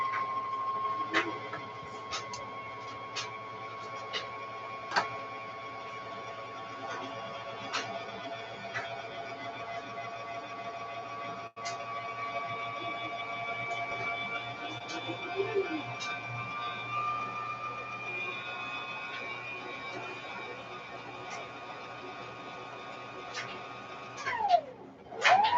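A sewing machine winds a bobbin with a steady, close whirring hum and faint ticking for about twenty-four seconds, then the motor slows and winds down at the end.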